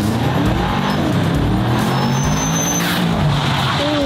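A car rips forward with a rising engine note, then squeals its tires as it brakes hard to a stop, the sound strong and close with no talk.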